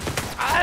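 A brief, sharp burst of gunfire in the co-op PC shooter The Division 2, with a few quick thuds in a fraction of a second.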